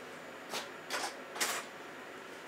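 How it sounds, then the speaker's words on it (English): Three short, rasping hacksaw strokes cut through a piece of metal for a miniature petrol engine part, each stroke a brief scratchy burst spaced about half a second apart, fairly close, with no talk. "cut a bit off with a hacksaw"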